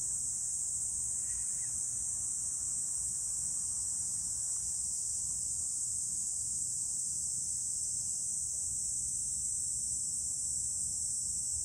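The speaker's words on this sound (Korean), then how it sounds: "매미 소리가 듣기 좋아." Cicadas sing in a steady, unbroken high drone that holds evenly for the whole stretch, fairly distant and moderate in level, with no voices over it.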